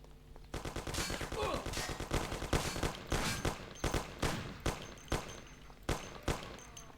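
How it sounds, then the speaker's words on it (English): Gunfire crackles in Mafia: The City of Lost Heaven: a dense burst of rapid automatic shots at first, then thinning into separate loud single shots spaced roughly half a second apart. "Who's shooting at me from 400 miles away from me?"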